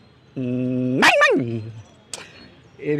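A voice imitates a puppy, holding a steady whining tone and then breaking into a sliding yelp. A second short yelp follows a moment later, close and fairly loud.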